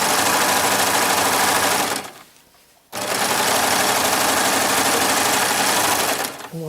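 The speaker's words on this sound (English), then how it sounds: "I'm going to use a serger and sew up the side seams and the pockets" A serger runs loud and steady while stitching the side seams and pockets of a heavily fraying lining fabric for a fur vest, pausing briefly before starting up again.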